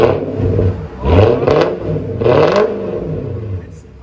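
A Lexus engine revving through a dual X-pipe exhaust, deep throaty roars rising and falling in several close, loud surges, with voices talking over it.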